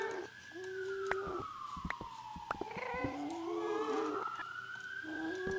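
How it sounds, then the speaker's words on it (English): An ambulance siren passes outside, its wailing tone rising and falling at moderate distance behind scattered clicks and knocks of nearby activity. "And there's an ambulance again."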